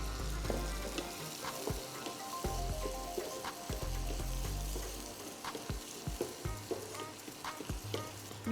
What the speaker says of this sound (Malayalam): ഇനി ഇതിലേക്ക് നമുക്ക് വെളുത്തുള്ളിയും ചെറിയുള്ളിയും ചേർത്തിട്ടൊന്ന് വഴറ്റിയെടുക്കാം.